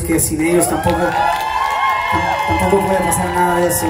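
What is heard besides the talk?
concert audience applause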